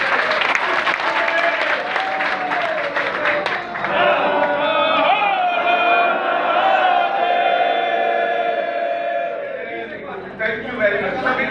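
An audience bursts into loud clapping and cheering in agreement with a proposal at a public gathering. The noise swells into a broad, sustained roar of applause and voices, then thins toward the end.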